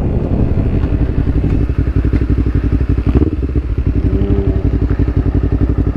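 Motorcycle engine from a track run at Sentul, comparing a 280cc CBR with a ZX25R, idling loud and close with a steady rapid thumping pulse and some clatter throughout, no voices.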